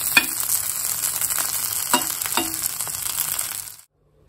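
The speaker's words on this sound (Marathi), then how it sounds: "हे शॅलो फ्राय करते" Corn cutlets coated in semolina shallow fry in a little oil, a close, steady sizzle and crackle with a few sharp clinks from a utensil before the sound cuts off.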